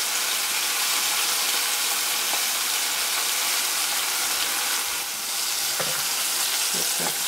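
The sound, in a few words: onions frying in oil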